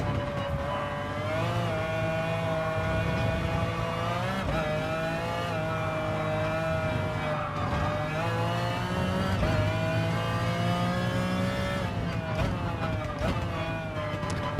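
Race car engines in heavy traffic in the Gran Turismo video game at the Spa circuit, a sustained loud engine drone with repeated rising and falling revs and gear shifts.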